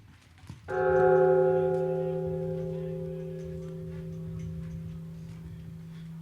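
A single deep gong struck once, its rich metallic tone ringing out and slowly fading over several seconds.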